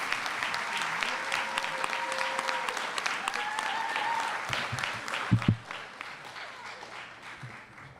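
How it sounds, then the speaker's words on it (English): Sustained applause from a graduation ceremony audience fills the space, steady clapping that fades out near the end with a few louder thumps. "Let's give our graduates a round of applause."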